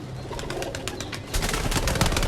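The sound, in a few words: teddy pigeons cooing and fluttering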